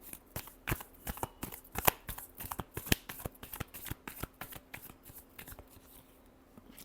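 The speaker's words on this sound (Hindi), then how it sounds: "Last shuffle." Tarot cards are shuffled by hand in quick, uneven bursts of crisp snapping and riffling clicks, fairly faint and close, with no one speaking.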